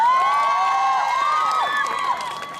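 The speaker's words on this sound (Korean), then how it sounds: "여러분 다시 한번 큰 박수 부탁드립니다" An outdoor crowd at a fringe performance during a ground forces festival claps and cheers, with scattered shouts and whoops rising over the applause, loud and close, then fading slightly toward the end.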